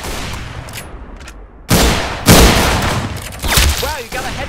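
Video game gunfire in a shooter, sounding as a few loud, abrupt bursts of shots that cut in sharply over a lower background mix, with brief chirpy game effects near the end.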